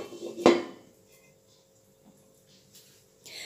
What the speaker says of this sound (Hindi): ऑयल डालने के बाद आप इसको किसी बर्तन से ढक सकते हो, ये ऑप्शनल है, मैं एक ढक्कन से इसको ढक देती हूँ।